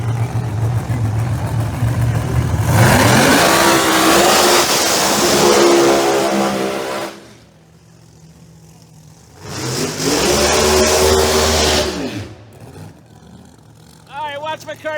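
Northeast Outlaw Pro Mod drag racing cars launching during first-round eliminations, with two separate deafening roaring passes that each rise in pitch for several seconds, divided by a brief quieter gap.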